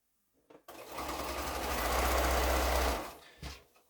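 A sewing machine stitches quilt strips into rows in one loud, steady whirring run of about two seconds, starting and stopping sharply, with a few faint clicks before and after.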